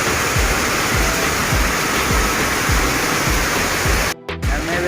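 Heavy monsoon rain roars in a dense, continuous wash, loud and near, with faint rhythmic thumps beneath and a brief dropout near the end.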